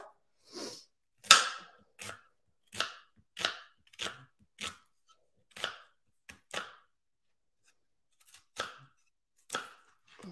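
A knife chops an onion on a cutting board with about a dozen crisp, close, separate strikes at an uneven pace and short pauses between them. There is no talking.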